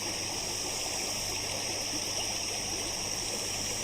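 A forest stream flows among trees, its water rushing in a steady, unbroken wash that stays close and fairly loud throughout, with no voices.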